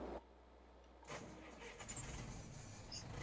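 Tractor engine in a farming video game roleplay cranks and catches about a second in, then settles into a steady running rumble with a faint voice briefly over it.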